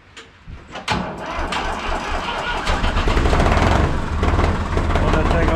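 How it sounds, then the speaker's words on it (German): An IHC 633 tractor cranks and catches in cold weather on an old battery, its diesel engine growing into a loud, steady, close-up running rumble, with a voice speaking faintly over it. "Und der Trecker läuft auf."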